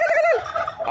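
A turkey gobbles once, a quick warbling burst of rapid throaty notes, close and clear.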